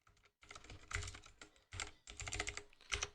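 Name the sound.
typing on a computer keyboard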